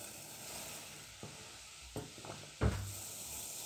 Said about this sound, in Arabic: نزيد عليها السميدة كاملة وكنبقى نحرك نحرك نحرك